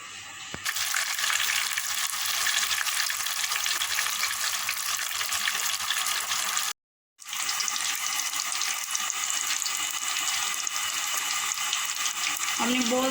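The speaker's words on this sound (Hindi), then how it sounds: "मीडियम फ्लेम पे आपने इसको फ्राई करना है" Crunchy vegetable strips fry in oil over a medium flame, a loud, steady close sizzle and crackle that drops out for a moment midway before resuming, with no voices.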